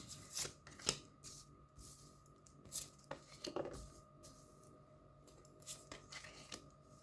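Tarot cards being shuffled and drawn: quick close-up riffles, snaps and papery slaps in irregular bursts, fairly quiet, with no talking.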